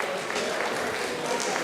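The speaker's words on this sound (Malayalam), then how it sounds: "കയ്യടി നന്നായിട്ടൊന്ന് മുറുകട്ടെ കേട്ടോ" Applause from an audience at a Kerala community Onam celebration during a prize announcement, soft and steady clapping held at a distance, with a voice faintly audible under it.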